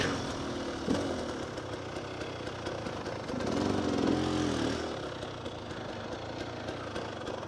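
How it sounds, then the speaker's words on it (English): A motorcycle engine idles steadily at close range, a low even mechanical throb with a slightly louder swell partway through, running alone with no talk over it. "Let's turn the engine off a second."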